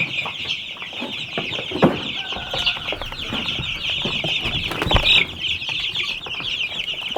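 Backyard meat chickens in a chicken tractor cluck steadily in a dense, close chorus, with occasional wing flaps and scuffling among the flock and no talking.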